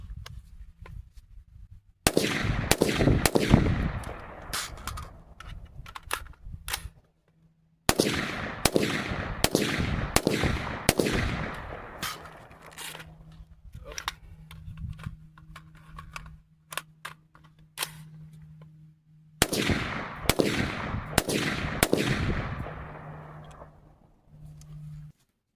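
A PSA PA-15 M16A4 clone rifle fires in three bursts of rapid, loud, sharp shots with ringing decay, separated by quiet pauses and a low steady hum.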